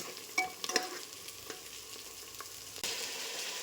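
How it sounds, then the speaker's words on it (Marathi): Mutton pieces frying with golden-brown onion and ginger in a pan: a steady close sizzle with a few sharp utensil clicks early on, then a sudden louder hiss swelling near the end, no voices. "आता आपण ह्याच्यात मटणचे पीसेस टाकून घेऊया."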